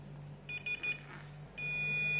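A multimeter's continuity tester emits high electronic beeps while testing a headphone wire and jack pins: a few short stuttering tones, then a sustained steady beep, over a low electrical hum.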